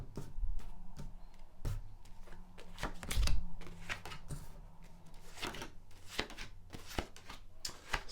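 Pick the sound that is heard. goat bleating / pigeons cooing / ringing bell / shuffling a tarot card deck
shuffling a tarot card deck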